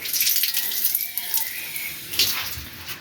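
Water running from a tap into a bucket holding flowers, a steady hissing splash that fills the whole clip with no talking.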